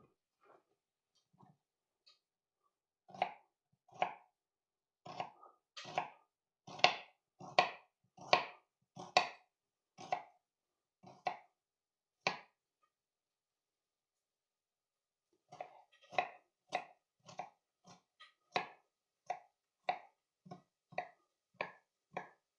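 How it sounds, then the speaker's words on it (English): Onions and swede chopped with a knife on a board: a few tentative taps, then a brisk run of close, crisp chops, a short pause, and a second steady burst of rhythmic cuts. "we'll chop the onions and the swede."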